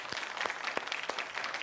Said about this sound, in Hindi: जोरदार तालियां तमाम मेहमानों के लिए।